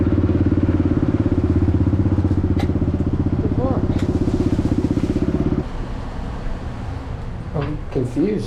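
A pit bike motorcycle idles at a fast-food drive-thru with a steady, rapid low putter that runs loud and close for several seconds, then cuts off, leaving quieter background and brief voices.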